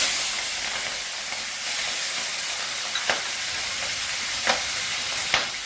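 Prawns frying in oil with dried red chillies, bay leaf and cumin for lau chingri, a continuous close sizzle and hiss with a few sharp stirring clinks spaced through it, no one talking.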